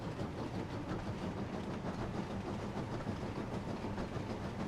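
Train rolling along a winding single-track country railroad in a Thomas & Friends video game, a steady, dense rumble with soft clickety-clack wheel rhythm throughout, moderately loud and unbroken.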